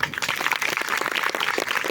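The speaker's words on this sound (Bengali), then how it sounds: "সবাই একটা জোরে হাততালি দিই।" A church audience clapping together at a Christmas sermon, a dense, steady patter of many hands held at an even level for about two seconds.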